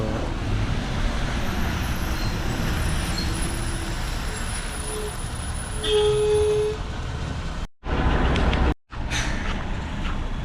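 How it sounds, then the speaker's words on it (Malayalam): Bus bound for Adimali rolls past on a rural road, its engine roar and tyre noise loud and close, with a brief hiss of air brakes; two short dropouts cut the sound near the end. "അടിമാലിക്കുള്ള ബസ്"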